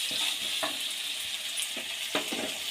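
Onions with ginger garlic paste frying in a pan for onion mutton boti fry, a steady close sizzle with a few soft scrapes of stirring and no talk.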